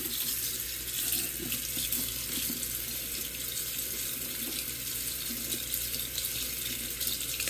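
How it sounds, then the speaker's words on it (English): Tap water runs steadily into a sink to rinse soapy false lashes, a continuous close splashing hiss with no break and no talking. "we're gonna rinse them off"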